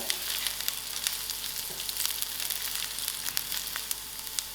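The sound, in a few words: cinnamon stick and curry leaves frying in oil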